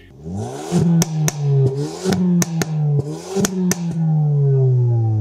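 A car engine revs up as the car pulls away, with repeated rising and falling whines of acceleration, sharp clicking ticks over the top, and a steady engine hum heard close by.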